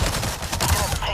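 Dense rapid gunfire in the video game Avatar: Frontiers of Pandora, a loud continuous barrage of overlapping shots without pause through the short stretch.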